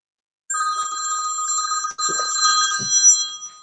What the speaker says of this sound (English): You give me a telephone ring